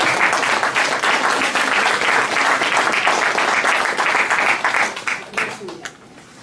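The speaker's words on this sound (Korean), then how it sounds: "좀 진짜 박수를 보내드리고 싶어요" Sustained crowd applause at a political debate forum in Goseong, many people clapping for a visiting lawmaker, dense and even for several seconds before tapering off into scattered claps.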